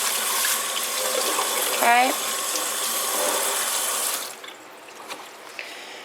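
Tap water pours steadily into a bowl indoors to soak children's clothes, a loud continuous hiss that stops abruptly partway through, with a brief spoken word over it.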